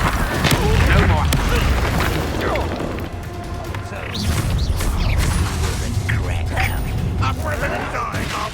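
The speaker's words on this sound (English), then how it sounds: "Confringo!" Confringo blast spells in the Hogwarts Legacy video game go off as booming explosions and crashes amid combat clatter, loud and close. Spoken voices run over the action.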